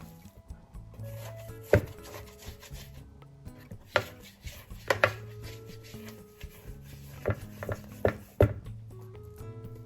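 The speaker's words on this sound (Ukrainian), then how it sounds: "так вимішую тісто, зачищаю стінки миски" Yeast dough for apple pastries being kneaded by hand in a bowl, with scattered soft thumps and scraping against the bowl sides at irregular intervals, fairly quiet and close, with no talking.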